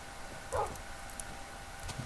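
A single short bark from a tamed wolf dog in the video game Minecraft, faint and brief against a quiet background.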